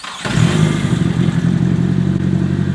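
A Nissan 240 with a supercharged SR20DET engine cranks and catches after months of sitting, settling into a loud, steady, slightly rough idle close by.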